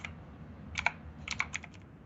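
Quick bursts of typing on a computer keyboard, light clicky keystrokes in two short clusters, close and fairly quiet over a low room hum.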